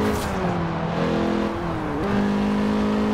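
A lightweight Mazda with weight reduction in the racing game Forza Horizon 4, engine droning steadily as it takes a corner, its pitch dipping then climbing again as it accelerates out, with faint tire squeal.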